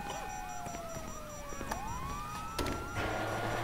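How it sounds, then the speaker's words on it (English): A police siren in the video game GTA 5 wails in rising and falling sweeps, loud and steady and without talk, before a rush of broadband noise takes over near the end. "you hear that? Siren"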